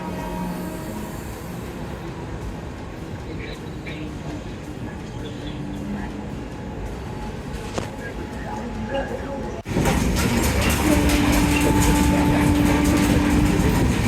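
Inside a Mumbai train, it rumbles along its rails with a steady rattling roar that suddenly grows louder partway through; voices murmur faintly underneath.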